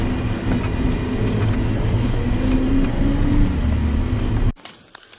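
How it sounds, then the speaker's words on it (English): A vehicle driving along a rough Russian ice road, a loud, steady engine drone with rumble and rattles from the bumpy surface, cutting off abruptly near the end. "So now we are already driving for 20 hours. It's amazing how bad the road is"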